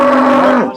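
A cow lows once at a busy cattle market, a loud, close, steady moo that lasts under a second and fades quickly at the end.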